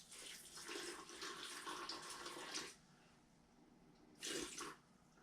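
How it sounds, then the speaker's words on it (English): Water pours into a cooking pot for a pork asado seasoned with salt and pepper, a steady splashing run of about three seconds followed by a shorter second pour after a pause, fairly close and moderately loud with no talk. "I got to put some water in here"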